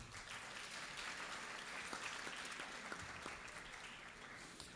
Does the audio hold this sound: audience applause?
yes